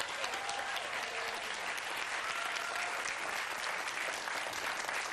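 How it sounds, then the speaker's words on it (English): Studio audience applause on a 1992 television quiz show, a steady, even wash of clapping from a sizeable crowd that runs without a break for the whole stretch. "A big round of applause, please, for Danielle."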